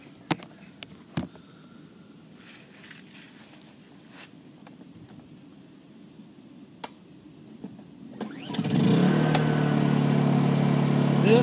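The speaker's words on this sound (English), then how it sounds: "I'm going to start it up, let you see what I'm talking about here." A Honda EU2000 portable generator sits quiet through a few faint clicks and handling knocks, then starts up and settles into a steady, fairly loud idle hum for the last few seconds.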